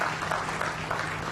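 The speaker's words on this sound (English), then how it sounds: "Ladies and gentlemen, let's clap for Nssf" An audience applauds at an annual members' meeting, a steady wash of many hands clapping at a moderate distance, brief and continuous.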